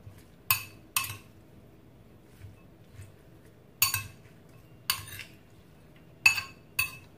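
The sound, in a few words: stirring cucumber jellyfish salad with utensils in a bowl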